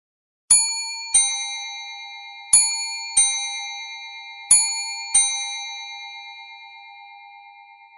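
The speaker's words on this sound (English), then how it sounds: "The third quarter chime repeats the first quarter chime 3 times." Clock sounding its third-quarter chime, the first-quarter chime played three times: three pairs of clear, ringing dings, each pair a higher note then a lower one, with long decaying tails in a quiet room.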